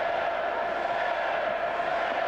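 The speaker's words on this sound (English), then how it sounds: "Crowd, I don't know what they're yelling." Hockey arena crowd yelling during a Houston Aeros versus Milwaukee Admirals game, a steady, distant roar of many voices without clear chanting rhythm.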